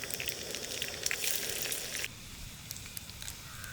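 Mustard seeds, cumin and chana dal fry in hot oil for sambar, a faint steady sizzle with soft crackling pops that quiets partway through, without any talking.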